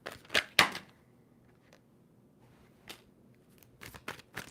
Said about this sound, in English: Two more shuffles for Sagittarius